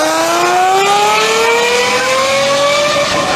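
A Mercedes M120 V12 engine revs loud and close, its smooth multi-harmonic howl climbing steadily in pitch over a few seconds before cutting off abruptly.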